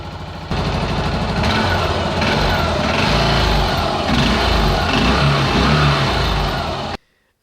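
A Yamaha SR400 single-cylinder motorcycle on its stock exhaust runs loud and close in a steady, even drone with low chugging pulses, cutting off abruptly at the end.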